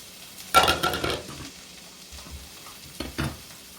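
Garlic sizzles in a pan for ratatouille, two short bursts of hiss as it hits the heat and is stirred with a wooden spoon, close and fairly loud with quiet gaps between.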